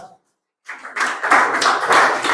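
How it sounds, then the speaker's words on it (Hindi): Clapping for a student at an Indian army mock-test results session. A short silence, then a burst of group clapping rises and keeps going, close and lively, with voices mixed into it. "तालियां तो बजा दो"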